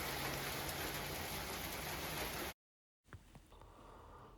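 Hail and heavy rain falling outside, a loud, dense, continuous hiss of hitting surfaces that cuts off abruptly, then returns as fainter, more distant pattering.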